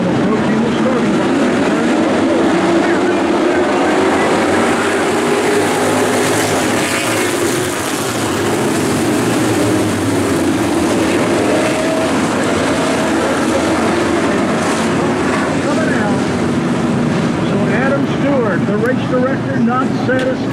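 Street stock race cars on a dirt track roar toward the starting line for a 50-lap championship race, a dense, continuous engine drone filling the air while an announcer talks over it.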